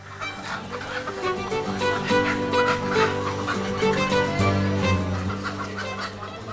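Chickens on a large commercial poultry farm cluck and call continuously, a dense, steady flock chorus close by with no talking.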